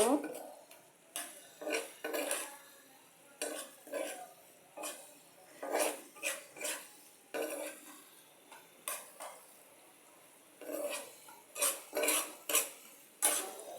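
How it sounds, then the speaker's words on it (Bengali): Green chillies and spice masala being stirred and fried in a pan for a sweet pumpkin dish, with repeated clinks and scrapes of a metal utensil against the pan coming in irregular bursts, close and fairly quiet. "এখন এটাকে মশলাটাকে ভালোভাবে কষিয়ে নেব"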